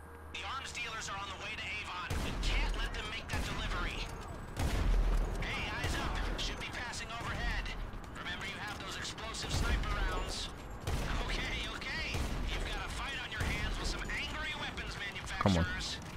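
Gunfire in Grand Theft Auto 5 aimed at a heavy-lift helicopter carrying an ATV during the Doomsday Heist: repeated bursts of shots with booming hits, running steadily under game noise while players talk.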